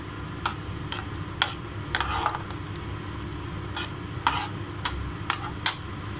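Small pieces of bread fry in ghee in a pan, a soft background crackle broken by a series of sharp, separate clicks and taps of a utensil against the pan.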